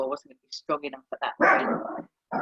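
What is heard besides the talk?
dog barking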